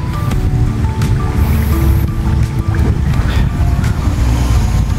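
Steady wind buffeting with a constant low roar, mixed with faint outdoor background noise, loud and continuous throughout.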